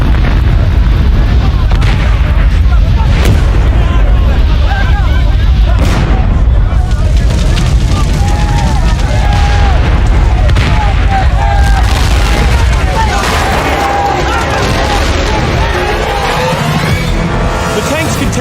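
Liquid propane tanks burst one after another in a blaze that reaches 2,000 degrees Fahrenheit. Several deep, loud booms break over a continuous roaring, rumbling fire, and a voice talks over part of it.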